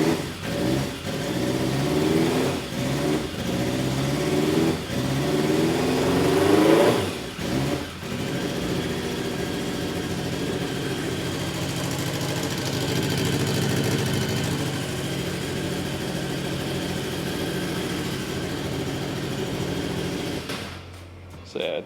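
An old motorcycle that had sat unused for over five years starts without choke. Its engine revs in a few rising bursts and then settles into a steady, fairly loud idle, ending with a short clatter.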